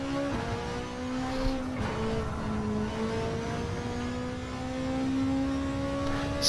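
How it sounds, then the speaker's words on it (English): A Manu Cup race car at Interlagos is held in lower gears so the engine revs out, heard from onboard as a steady, buzzing engine note that climbs in pitch and stays fairly constant in loudness, with no talk. "I'm just holding the lower gears just to rev the engine out"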